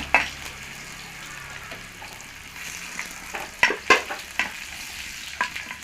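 Mustard seeds frying in oil while Bengali Brahmi saag is cooked, with a steady sizzle broken by sharp pops and crackles that grow more frequent toward the end, close and fairly loud.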